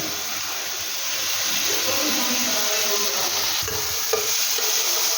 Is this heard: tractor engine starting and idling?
no